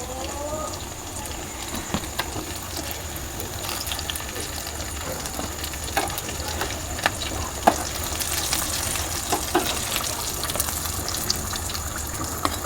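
Snacks deep-fry in hot oil with a steady, close crackling sizzle, punctuated by sharper pops and occasional stirring or lifting clinks throughout.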